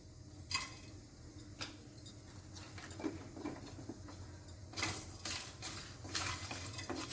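Bay leaf, red chilli, star anise, cloves and peppercorns are dry-roasted without oil in a pan for chhole masala, with scattered light clinks and scraping taps of a spoon against the metal, fairly quiet and close.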